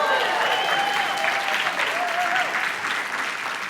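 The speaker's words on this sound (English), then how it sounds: "Give yourself a massive round of applause." Audience at a talk on AI and productivity gives a big round of applause, sustained crowd clapping with faint cheers and a whistle-like tone rising through it.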